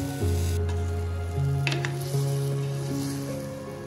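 Spices frying in oil for a Sri Lankan young jackfruit (polos) curry, giving a close, continuous sizzle with a couple of brief stirring scrapes; no voices.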